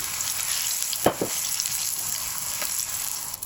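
Ingredients fry in a pan with ginger, giving a constant bright sizzle with a couple of short utensil clinks and stirring sounds near the start.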